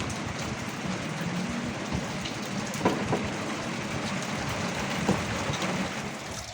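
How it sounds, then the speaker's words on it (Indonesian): Light drizzle falls steadily on an overcast day by a boat's stern, a soft even hiss with scattered faint drips and a few small knocks, and no voices. "mendung tipis, hujannya rintik"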